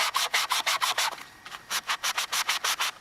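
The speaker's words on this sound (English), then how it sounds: "I use a foam sanding block to get in the crevices." A foam sanding block rubbed back and forth over a painted bathroom cabinet, working into crevices: brisk, evenly spaced rasping strokes, loud and close, with a short pause partway through and no voices.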